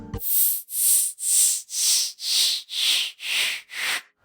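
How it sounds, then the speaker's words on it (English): Synthesized white noise flutters as an LFO pulses its level, forming eight even, rounded swells of hiss at a steady rhythm with no voices, the brightness sliding gradually lower across the pulses. "we can make the noise flutter by adding another LFO onto the level"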